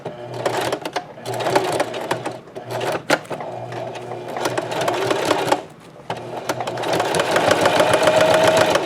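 A sewing machine stitches forward and back through a Dollar Tree potholder being made into a purse caddy: close, steady mechanical whirring in several bursts, broken by short pauses and clicks.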